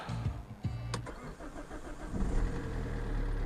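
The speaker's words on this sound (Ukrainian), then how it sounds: "Так, автомобільчик в нас завівся, все добре." An Opel Insignia car engine starting: a couple of brief cranking clicks and whirs, then the engine catches and settles into a steady, moderately loud idle heard from inside the car.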